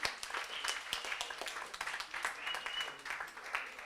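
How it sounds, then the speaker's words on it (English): An audience at a live event claps warmly in a dense, continuous burst of applause lasting a few seconds, fairly close and steady. "A round of applause to the team."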